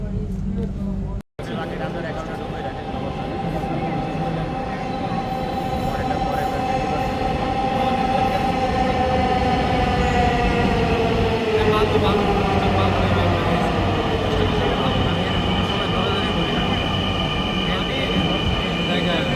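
A subway train rumbles loudly and continuously, its rising whine of motors and rattling wheels filling the car, with people talking underneath.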